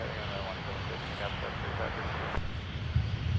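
A fixed-wing airliner taking off at Minneapolis–St. Paul airport, a steady broad jet roar held throughout at moderate distance, with radio chatter over it.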